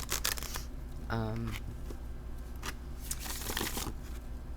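Cards from a tarot deck with Llewellyn cardstock are shuffled in quick papery riffles and flutters, close to the microphone, with a brief voice or hum partway through.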